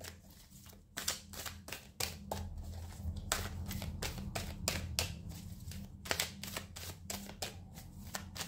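Oracle cards are shuffled by hand in a steady run of crisp riffling flicks and slaps that repeat through the whole stretch, close and clear over a low, soft background hum with no talking.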